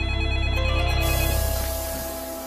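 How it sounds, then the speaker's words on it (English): A telephone rings with a steady electronic tone, loud and close, sounding alone for a couple of seconds before fading slightly. "I get a phone call from our operations officer"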